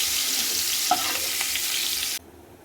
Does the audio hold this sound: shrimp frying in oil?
yes